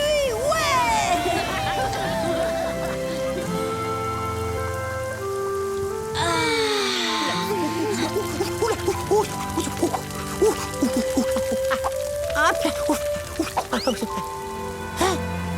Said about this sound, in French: La pluie, ouais.